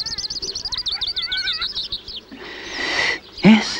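A robin sings from a high songpost in a house garden, a rapid series of bright, high warbling phrases, followed by rustling and a short low thump.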